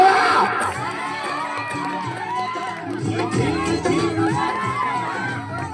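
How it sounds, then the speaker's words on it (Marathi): A large, loud crowd, mostly children's voices, shouting and cheering continuously, with overlapping excited calls throughout, at a Ganesh festival mandal's Home Minister paithani game show in Hingangaon. "जोरदार टाळ्या जोरदार टाळ्या टाळ्या वाजवा टाळ्या"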